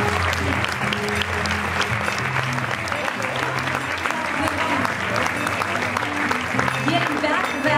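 A large audience at the 14th Kulturmarken Award ceremony in the Zeche Zollverein hall applauds steadily, dense clapping sustained throughout with a low musical bed underneath.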